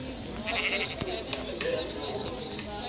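Sheep bleat in a video game card match, several short calls over a busy background of game music and effects, with a voice talking over them.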